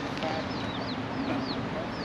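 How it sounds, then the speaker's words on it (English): Chickens cluck on Iyawalu Beach in steady short bursts, with a few higher squawks over a constant background hiss of surf or wind at moderate loudness. "Iyawalu Beach is crawling with chickens."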